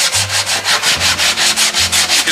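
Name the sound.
block sanding plastic bumper cover with 80 grit sandpaper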